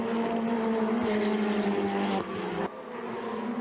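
Ferrari Challenge race cars at the Hungaroring run wide onto the grass, a loud buzzing engine note holding steady, then dropping sharply in pitch twice as the cars pass and pull away.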